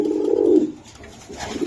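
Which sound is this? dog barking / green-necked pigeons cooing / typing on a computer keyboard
green-necked pigeons cooing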